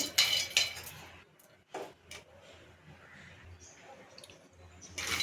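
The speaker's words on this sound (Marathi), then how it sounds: "शेंगदाणे मी भाजून घेते ते छान भाजून परतून घेते" Peanuts being roasted and stirred in a pan for sabudana vada: a few close clattering scrapes and clinks at the start, then a quieter stretch of faint rattling and small knocks, ending with another brief burst of scraping.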